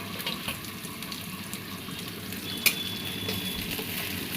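Prawns frying in oil for an okra and prawn dish make a constant, fairly quiet crackling sizzle with a single sharp click midway, close to the listener with no talk.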